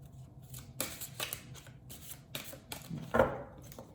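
Tarot cards are shuffled and handled at close range in a series of short papery riffles and soft rubs, with a sharper snap near the end, and no speech.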